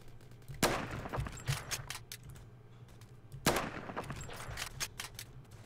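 Pistol fire in Roblox Phantom Forces: two loud shots about three seconds apart, mixed with a scatter of quicker distant gunfire cracks in between.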